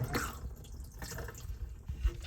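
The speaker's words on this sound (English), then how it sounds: "this button here is the flush" A toilet flushes in a 2011 Swift Challenger 580 caravan, a short low rush and trickle of water from a small tank, fairly faint and close, no speech.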